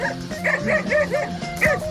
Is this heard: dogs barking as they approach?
yes